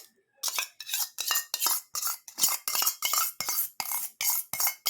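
Spoonfuls of sour yogurt go into a bowl of chicken curry masala: a run of about a dozen quick, evenly spaced scraping clinks of a spoon against the bowl, close and fairly loud, with no voices.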